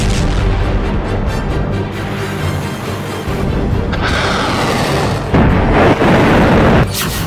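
Iranian missiles launched in a war zone give a loud, dense, continuous roar with deep rumbling booms and rushing blasts that swell louder toward the end, filling the whole stretch without any speech.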